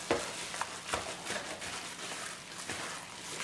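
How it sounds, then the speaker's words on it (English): Kimchi ingredients mixed by hand, giving a steady wet squelching and rustling with soft repeated pulses, fairly close and continuous with no talk. "you mix it up really well"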